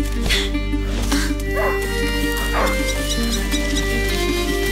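A hunting dog named Leo barks several times at close range in the medieval game A Plague Tale: Innocence, with yips and whines over steady droning background sound and music.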